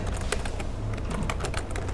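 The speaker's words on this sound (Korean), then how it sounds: "Shift 키를 누르고 있는 상태에서 마우스 오른 버튼 누르면" Rapid computer keyboard typing and clicking, close and steady, as someone works in AutoCAD using the Shift key and mouse buttons, with no talking.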